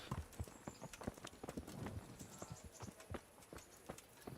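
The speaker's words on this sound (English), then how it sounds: "I can't ride Bernard's horse." Horse hooves clip-clop in a steady walking rhythm, quiet and somewhat distant, with no voices, in the video game Kingdom Come: Deliverance.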